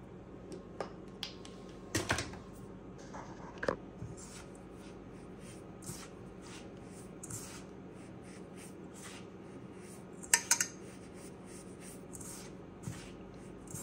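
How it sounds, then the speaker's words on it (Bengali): Dough made with baking powder, ghee and eggs is kneaded gently by hand, giving soft, sticky squishes and light taps at an irregular pace, close and quiet, with a few sharper clicks. "এখন আলতো হাতে মেখে নেব"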